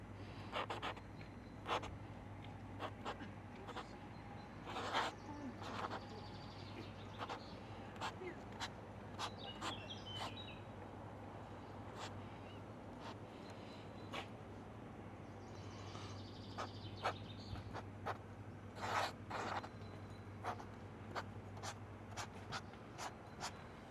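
A pen scratches across paper, sketching a single-line electrical diagram in short strokes and taps with pauses between, quiet and close beneath a faint steady hum.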